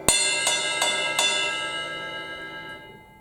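The bell of a drum-kit ride cymbal is struck four times in a steady, moderate rhythm. Each clear metallic ping rings out, and the shimmer decays slowly after the last hit.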